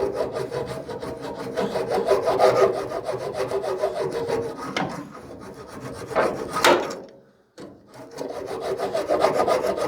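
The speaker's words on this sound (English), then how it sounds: "I'm gonna try out this little cheese grater file." A hand cheese grater file rasps over body filler on a 1988 Ford truck cab, making repeated close scraping strokes in an uneven rhythm, with a brief pause near the end before the filing resumes.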